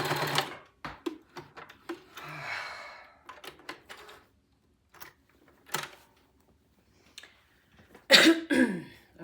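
A sewing machine stitching fabric in short, rapid mechanical bursts, close and fairly loud, with quiet gaps and a few brief spoken words between runs.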